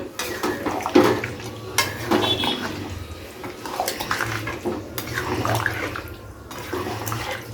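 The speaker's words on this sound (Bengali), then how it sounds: "তো জলটা দিয়ে খুব ভালো করে নাড়াচাড়া করে নিলাম।" Mutton stirred with hot water in a wok, with sloshing liquid and repeated metallic scrapes and clanks of a spoon against the pan, close and uneven.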